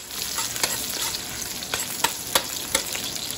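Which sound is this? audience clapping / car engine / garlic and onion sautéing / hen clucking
garlic and onion sautéing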